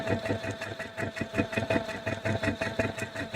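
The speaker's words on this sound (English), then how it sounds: "I'm also trying to see if I can speed up my sewing machine at the same time." A domestic sewing machine stitching organza for a French seam runs continuously with a fast, even mechanical whirring and rapid needle clatter, close by and fairly quiet.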